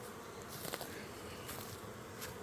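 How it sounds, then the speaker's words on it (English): Honeybees swarm over comb during a hive inspection, a faint, steady buzzing hum with a few brief louder passes close by, no one talking. "There's a lot of bees in here too."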